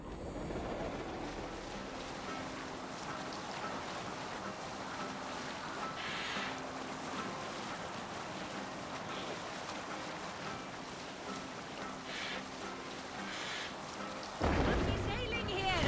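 A longship sails over ocean waves in Assassin's Creed Valhalla, a steady wash of surf and wind with a faint rumble, a low voice underneath, and a louder splash of water near the end.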